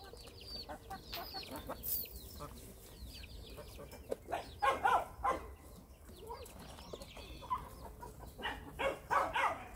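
Native Korean chickens clucking in a rabbit pen during morning feeding, repeated soft clucks and squawks over a busy low background, with a dog barking at times.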